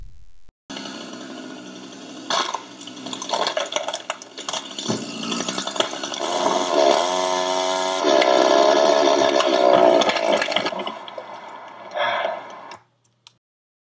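A chainsaw cuts into a tree during a hinge felling cut, with an outdoor engine roar that rises and falls under load for about twelve seconds before stopping abruptly.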